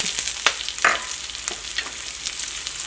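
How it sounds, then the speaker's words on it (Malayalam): Curry leaves and green chillies hit hot oil with ginger in a pan, bursting into close, crackling sizzle with a couple of sharp spits and stirring scrapes, then a steady frying hiss. "ഇനി ഇതിലേക്ക് നമുക്ക് കറിവേപ്പില ചേർക്കാം, പച്ചമുളക് ചേർക്കാം,"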